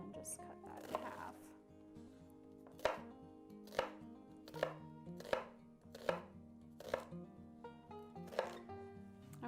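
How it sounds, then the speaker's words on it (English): A knife slicing a vegetable into half rings for tomato soup, giving about eight crisp, evenly spaced chops on a cutting board, close and clear over a soft background. "I'm basically just going to slice some half rings and just cut that in half."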